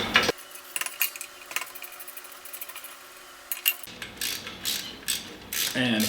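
A ratchet with a half-inch socket works loose a drum brake wheel cylinder on a Dana 44 axle from a 1972 IH Scout II. It makes close, quick clicking bursts in short runs, with a brief quiet gap in the middle.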